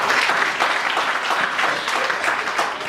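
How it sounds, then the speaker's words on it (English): A church congregation claps hands together in sustained, dense applause during a worship service, loud and steady throughout with no pauses. "Let's clap our hands for Jesus once again."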